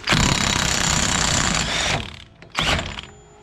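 An impact gun taking off a car's axle nut during a pressed-on wheel bearing job on an AWD G35: a loud, rapid hammering burst of about two seconds, then a short pause and a second, briefer burst.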